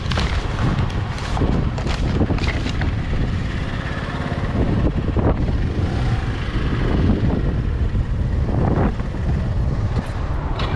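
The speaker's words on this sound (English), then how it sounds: "Okay, I'll turn off the scooter and look." A scooter engine runs steadily and close for the whole stretch, a loud broadband drone mixed with wind buffeting on the microphone, with no speech over it.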